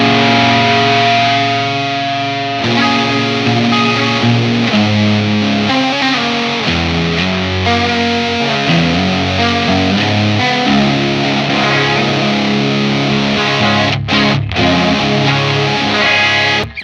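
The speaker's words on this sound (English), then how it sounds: "if we turn both of them on, right now it kind of sounds out of balance because the distortion is way louder" Electric guitar plays chords and riffs through an Old Blood Noise Endeavors Excess V2 distortion and modulation pedal, heavy distortion with a swirling modulated shimmer, loud and sustained without any talking.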